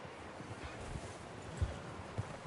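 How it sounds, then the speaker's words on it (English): Horse hooves clip-clopping in the video game Red Dead Redemption 2, a soft, uneven run of hoof thuds with a couple of heavier knocks, set against a steady hiss of snowy outdoor ambience. "Arthur, get off of the damn horse."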